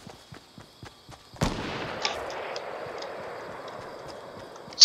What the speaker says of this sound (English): Snipe shot.